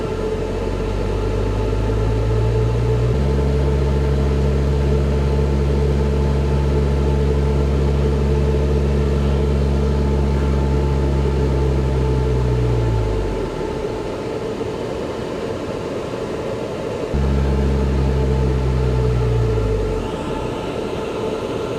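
A vertical axis wind turbine spinning on a test dynamometer gives a loud, steady tonal hum and whir that holds for about ten seconds, winds down, falls quiet, then starts up again near the end.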